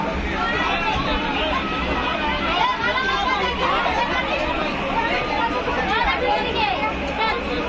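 Dense, continuous chatter of many passengers fills a packed sleeper carriage of the Magadh Express between New Delhi and Patna, an overlapping hubbub of voices that stays steady throughout.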